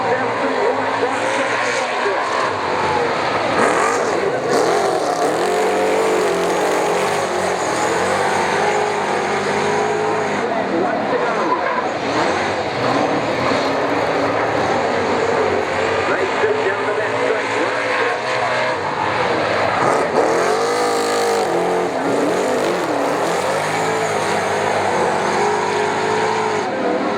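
Super saloon race cars race around Waikaraka Park, their engines roaring and droning continuously as they pass, with a commentator talking over the racing throughout.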